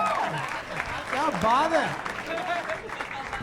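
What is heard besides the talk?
audience applause on TV show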